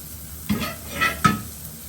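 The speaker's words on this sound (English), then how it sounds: "as you can see, that's just cooking away nicely there itself" Cauliflower steak frying in a pan over a gas flame, a soft steady sizzle broken by a few quick stirring or scraping knocks against the pan, close up with no talking.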